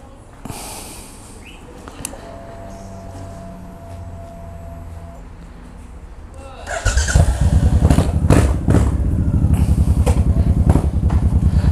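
A Suzuki Boulevard M1500 motorcycle with a full stainless steel exhaust pulls away, its engine quiet and idling at first, then rumbling loud and deep with revving as the ride begins, close to the microphone.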